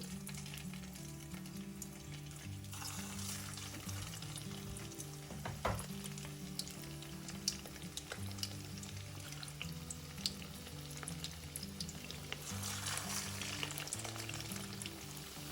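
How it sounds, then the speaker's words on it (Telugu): Vadas deep-fry in hot oil in a kadai, a loud continuous bubbling sizzle with a few sharp clatters, while low steady music plays underneath. "బాండీలో ఆయిల్ వేడయ్యాక ఇప్పుడు మనం రెడీ చేసి పెట్టుకున్న ఈ వడల్ని వేసి వేయించుకోవాలి"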